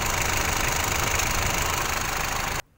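Mitsubishi Triton GLX diesel engine idling, a steady, loud, even rumble with a faint knock that runs without a break before cutting off abruptly near the end.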